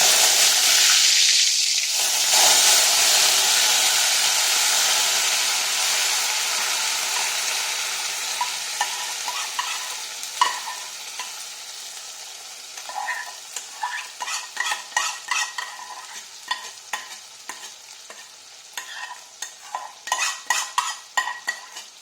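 Paste for a prawn paratha dish goes into hot oil in a wok: a loud burst of sizzling that gradually settles and fades, followed by repeated sharp scraping and clinking of a utensil stirring against the pan.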